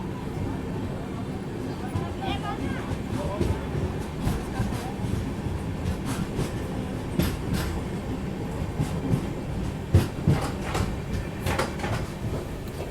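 The Yesvantpur–Charlapalli Garib Rath, hauled by a WAG 9 electric locomotive, passes close by with a continuous heavy rumble, rhythmic wheel clatter and sharp clunks for over twelve seconds.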